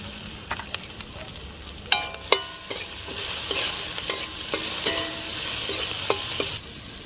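Onions with a little salt fry in a pan for a village-style drumstick leaves dish, producing a continuous close sizzle punctuated by sharp spatula clacks and scrapes against the pan. No one speaks.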